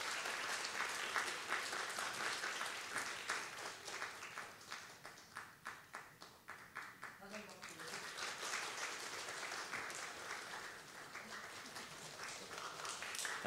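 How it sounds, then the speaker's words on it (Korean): A church youth congregation applauds at a Sunday service, a sustained wash of many hands clapping that swells and fades in rhythmic pulses through the middle before filling in again. "우리 다 같이 박수해 주시기 바랍니다."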